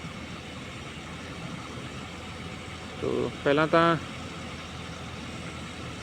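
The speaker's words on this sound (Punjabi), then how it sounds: "ਪਿੱਛੋਂ ਟਰੈਕਟਰ ਭਗਾ ਭਗਾ ਸੁੱਟਦਾ ਮਿੱਟੀ ਅੱਧੇ ਅੱਧੇ ਕਿਲੇ ਬਾਈ ਦੂਰ" A tractor works a muddy field, spreading soil, and its low engine rumble drones steadily in the background while someone speaks briefly over it.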